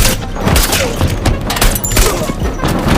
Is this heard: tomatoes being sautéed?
no